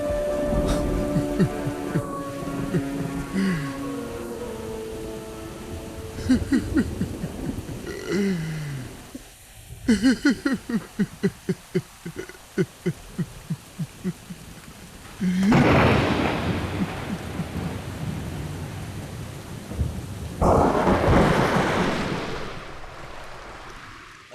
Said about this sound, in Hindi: उसकी दुआ से बारिश हो गई।